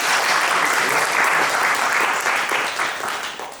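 An audience at a civic education conference closing ceremony applauds, dense continuous clapping that stays loud throughout and eases off slightly at the end.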